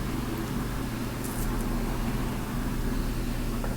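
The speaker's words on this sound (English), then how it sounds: "the sound of cars driving by is because of the fact that I live so close to the main street" Steady road noise from cars driving by on a nearby main street, a continuous low rumble with a faint whoosh rising briefly midway, no talking.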